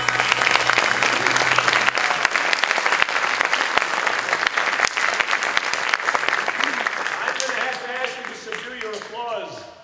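A concert audience in Amman, Jordan applauds loudly, a dense wash of clapping that carries on and then thins out, with a few scattered claps and a voice near the end.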